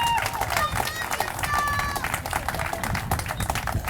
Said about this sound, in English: let's start off by giving another round of applause to the Huntington Beach High School Band